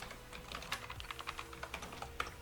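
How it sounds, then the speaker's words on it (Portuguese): Quiet computer keyboard typing, a string of light irregular key clicks with one sharper keystroke like Enter near the end, close and alone with no talk. "Vou dar um Enter aqui"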